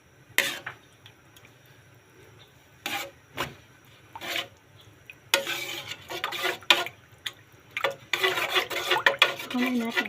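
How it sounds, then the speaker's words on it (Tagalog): Tuna and eggplant stirred in a cooking pan, a spoon scraping and clattering in bursts that grow busier and denser toward the end, close and fairly loud, with no talking. "Haluin natin siya."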